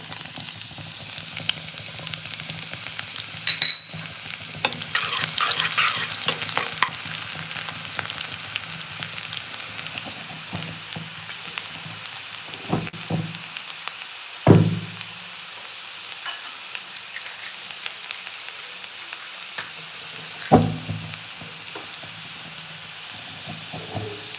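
Garlic frying in a pan of hot oil with dried red chilies and bay leaf, giving a steady close sizzle and hiss throughout, broken by a few sharper pops and the scrape of stirring.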